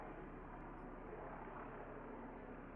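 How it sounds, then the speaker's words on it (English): Steady whirring drone of helicopter rotor blades circling overhead in the video game Clash: Robot Detective, a continuous broadband roar that holds even and unbroken throughout. "The sound of chopping blades alerts us to the helicopter circling overhead."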